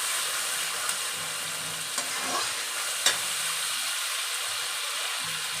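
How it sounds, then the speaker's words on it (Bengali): Spice masala for a winter new-potato aloo dum fries in a pan while being stirred, a steady close sizzle with occasional scrapes and clicks of the spoon, with no talking. "ভালো করে কষাবো।"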